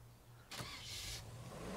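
A car engine cranks and starts in the zombie survival game State of Decay 2, a sharp turnover followed by a steady idle, fairly quiet and heard without talk.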